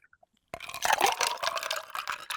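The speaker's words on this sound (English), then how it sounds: "So then I pour the C4 in the glass." After a brief silence, C4 drink is poured into a glass: a soft, close liquid splash and trickle that lasts about two seconds, with no talk.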